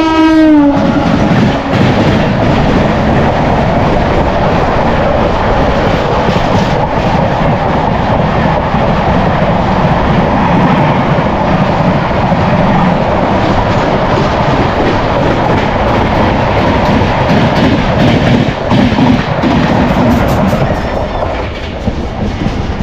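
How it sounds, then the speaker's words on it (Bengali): The Amrit Bharat Express passes near and loud, opening with a brief horn blast before a long, steady roar of wheels and carriages clattering by. "অমৃত ভারত এক্সপ্রেস।"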